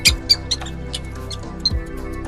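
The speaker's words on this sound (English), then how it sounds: "Mouse." High, thin mouse squeaks flicker in quick bursts, a few sharp ones near the start and another later, over quiet background music.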